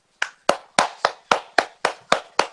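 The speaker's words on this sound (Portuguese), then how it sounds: "Palminhas, palminhas, porque merece. Bora, todo mundo palmas." Nine evenly spaced hand claps, crisp and close, forming a steady rhythmic clapping rather than broad applause.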